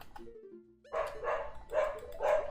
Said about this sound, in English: Sorry for the annoying dogs, by the way.